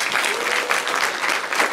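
Warm, continuous applause from an audience at a song festival concert in Baisogala, Lithuania, after the first part of the performance, a steady roar of many hands clapping at moderate distance.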